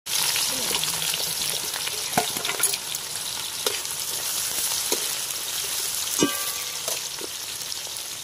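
Vegetables with chopped garlic and green chilli sizzling and frying in hot oil in a kadai for chowmein, a steady close crackle with occasional sharper pops and stirring clinks, no talking.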